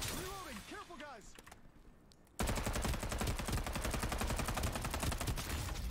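Rapid gunfire from a vehicle in the battle royale game Farlight 84 starts abruptly after a spoken stretch and quieter moment, a fast, continuous, loud rattle of evenly spaced shots lasting to the end.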